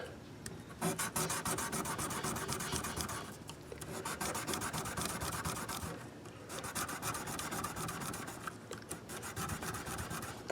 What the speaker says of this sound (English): this is a way to polish and clean the frets without spending money on it